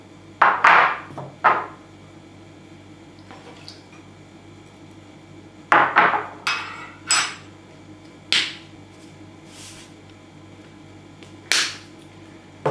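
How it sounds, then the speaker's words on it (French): Watermelon ice cream ingredients are mixed in a bowl, with scattered sharp clinks and taps of a utensil against the dish, irregularly spaced over a faint background hum. "Je vais mélanger tous les ingrédients"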